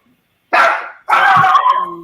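A dog called Purple gives two sharp, loud barks close by, the second longer and trailing off into a whine, with silence before them.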